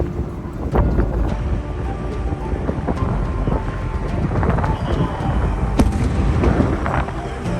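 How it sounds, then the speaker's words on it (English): Steady wind buffets the microphone in a continuous low roar on the coast of Malta, with occasional gusty bursts and no voices. "Windy, weather's coming."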